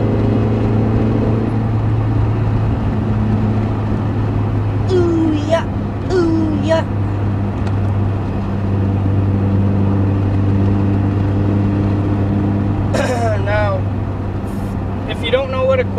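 Car engine humming steadily close by while the driver quick-shifts without the clutch, the pitch dipping and rising briefly at each shift, with someone talking over it.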